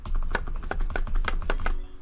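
Chopping potato and shallot in the cooking game Chef Life produces a quick run of about eight evenly spaced knife taps, crisp and close, with no talking.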